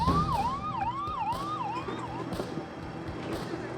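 An ambulance siren wails in a rapid rising-and-falling pattern over road traffic noise, fading out partway through.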